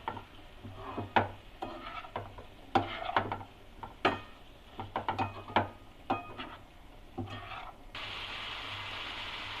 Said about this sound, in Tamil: இப்போ இது ஒரு 5 மினிட்ஸ் நல்லா வதக்கிக்கலாம்.